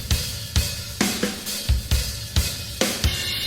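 A Premier Rock drum kit patch, uncompressed, plays a steady beat of about seven evenly spaced kick and snare hits with sharp attacks and quick decays, with no voices.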